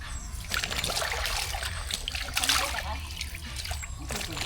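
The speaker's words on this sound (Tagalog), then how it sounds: "Flowing ang tubig" Water flows steadily at a farm laundry and washing area, a continuous trickling and splashing heard fairly close, with no talk over it.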